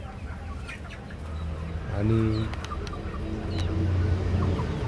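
Desi chickens at a poultry farm cluck and call repeatedly nearby over a noisy farmyard background, with a brief word spoken in the middle.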